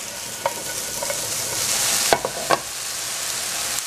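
Chopped onion sizzles steadily in a hot pan for fried rice, a continuous frying hiss with a few sharp stirring clatters and scrapes near the middle and end.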